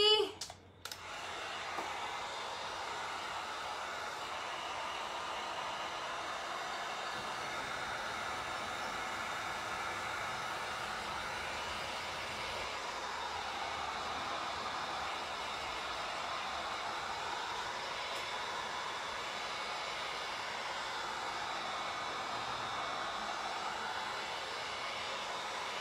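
A hair dryer runs continuously to dry paint on a wooden tray, a steady close whooshing hum that holds for the whole stretch with only slight wavering, after a brief bump at the start.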